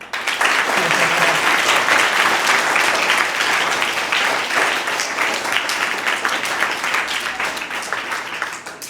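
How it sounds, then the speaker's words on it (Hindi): A school audience at Sarvodaya Academy claps after a motivational couplet, a loud, dense burst of applause that continues steadily and fades slightly toward the end. "ताली बजाओ रे"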